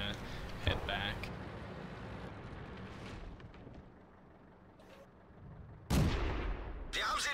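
A Pz B2 tank's cannon fires in World of Tanks: a few sharp, heavy blasts, one early and two near the end, ring out over a lower rumble of battlefield ambience.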